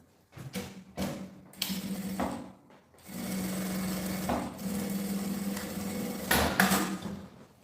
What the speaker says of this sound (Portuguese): costura com o pé de máquina